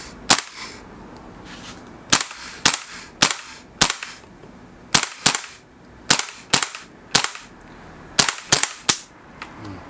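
A KSC Tavor-21 gas blowback airsoft rifle running on green gas fires about sixteen sharp, loud cracks, spaced singly and in quick pairs and triplets, each snapping with a short metallic bolt clatter against a quiet background.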